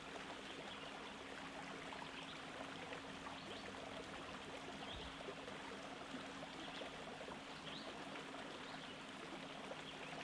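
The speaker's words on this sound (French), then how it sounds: "Il s'agit d'une rivière, un cours d'eau de 2 mètres de large environ," Small tree-lined river about two metres wide and barely half a metre deep, flowing with a steady, soft wash of trickling water, even and continuous throughout with no voices.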